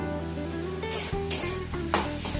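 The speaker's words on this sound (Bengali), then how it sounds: "তো আলুটা ভালো করে ভেজে নিচ্ছি" Potatoes frying in oil with a steady sizzle, punctuated by a few sharp utensil scrapes and stirring clanks close by; a low background hum runs beneath, with no talking.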